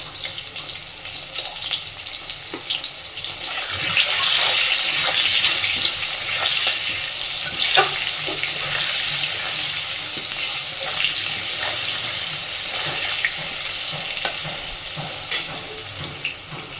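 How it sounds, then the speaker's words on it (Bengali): Potatoes frying in a pan with salt and turmeric powder, cooked until reddish, give a steady, dense sizzle that rises slightly and holds evenly throughout, with faint scrapes of stirring and no voices. "আর দিচ্ছি সামান্য একটু হলুদ গুঁড়ো, দিয়ে বেশ লালচে করে আলুগুলোকে ভেজে নেব।"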